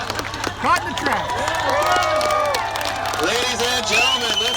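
A crowd cheers and claps with scattered shouts, while voices talk loudly over the noise, in the video game World of Tanks.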